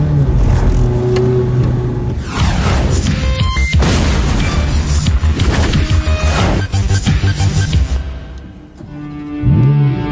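A Ferrari F430 Scuderia revs hard and loudly, its engine surging through several rising and falling sweeps with sharp pops and bangs, then dropping away briefly before a final blip, with no voices.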